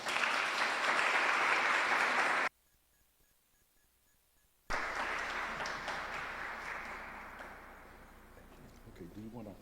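An audience applauds to welcome lecturer Anthony Powell: a steady wash of clapping cuts off, then a second full round of applause rises and slowly fades, with people talking over the end.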